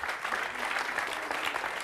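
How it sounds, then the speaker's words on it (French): Audience applause after a performance, a dense, steady wash of many hands clapping that carries evenly through the whole stretch without talk. "Allez, on les applaudit très très fort."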